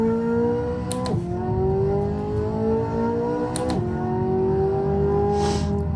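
A Z06 Corvette engine in a racing video game played with a steering wheel: a loud, steady drone that climbs in pitch and drops sharply at two gear shifts, then climbs again.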